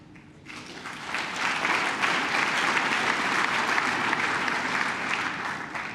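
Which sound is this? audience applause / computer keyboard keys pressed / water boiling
audience applause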